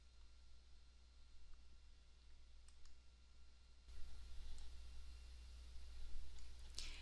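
A computer mouse gives a few faint, isolated clicks in a quiet room with a low electrical hum, with no talking.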